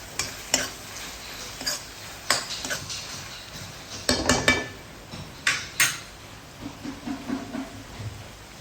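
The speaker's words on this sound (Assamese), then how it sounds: "টমেটো চচ, পিজ্জা চচ আৰু ভালদৰে মিলাই লওঁ।" A spatula stirs paneer fried rice with tomato sauce and pizza sauce in a pan, sounding as a series of irregular metallic scrapes and clacks over a faint sizzle, with a dense burst in the middle.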